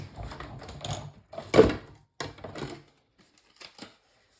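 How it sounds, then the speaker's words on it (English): A paper card is cranked through a Stampin' Up embossing machine. Rapid mechanical clicking and rolling comes in short bursts with brief pauses, close and fairly loud, ending in a few lighter clicks. "we're going to run that through your Stampin' Emboss machine"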